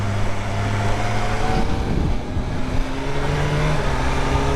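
A 2023 BMW M1000R motorcycle engine runs loud and steady while being ridden, its pitch dipping and then climbing again under a constant rush of wind noise.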